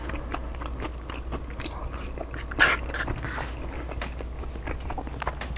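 Close-up chewing of a keto bowl with guacamole and cheese, soft wet bites and crunches repeating irregularly, with one louder crunch partway through and no talking.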